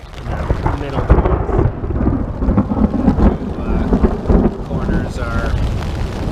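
A thunderstorm outside an ultralight modified-pyramid tipi tent: heavy rolling thunder and steady loud rain pour continuously, close and enveloping, with no voice clearly heard.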